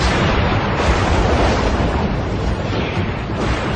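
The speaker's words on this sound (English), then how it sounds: "The enemy cruiser is firing shells out in front of the retreating planes to alert Zeros overhead to their presence." Shells fired by an enemy cruiser explode in rapid, overlapping booms at the Battle of Midway, loud and continuous with heavy low rumble and no speech.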